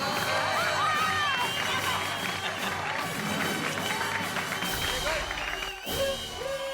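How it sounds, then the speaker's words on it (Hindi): An audience cheering and clapping loudly for Sonu, a schoolboy who came first in his school, in a busy crowded sitcom scene, a continuous roar of applause mixed with excited shouts and children's voices. "सोनू के लिए एक बार जोरदार ताली"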